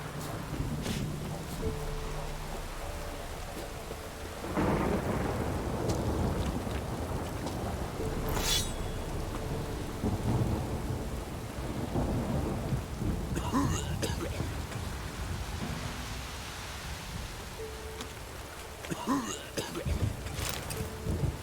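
Rain falls steadily in the video game The Witcher 3: Wild Hunt, a continuous hiss broken by deep rolls of thunder and occasional brighter splashes.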